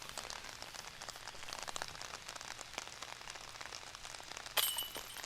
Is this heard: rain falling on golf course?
yes